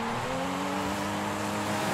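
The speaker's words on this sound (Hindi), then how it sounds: "टायर घिसो यार थोड़े, सुपरा ली है भाई टायर तो घिसो" A Toyota Supra's tires squeal under a steady engine drone, with tonal harmonics sustained for about two seconds and no voices.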